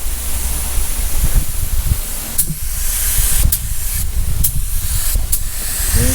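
Spray gun coating a vehicle wheel in a paint shop, a steady close hiss running continuously with brief breaks in the flow.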